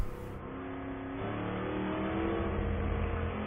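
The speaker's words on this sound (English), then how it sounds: "Sounds like a V8." A V8 race car engine at a racetrack during an endurance race, holding a loud, steady, close roar that builds slightly over a few seconds, with no voices.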